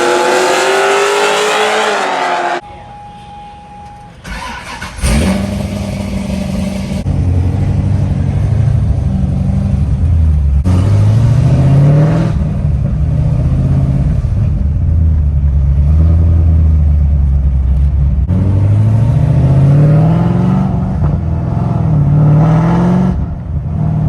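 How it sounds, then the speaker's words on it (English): A loud, powerful ProCharger-supercharged Corvette engine revs and accelerates through rising gear pulls on a test drive, with a whining supercharger note over a deep, continuous rumble. "Let's go ahead and take it on a test drive."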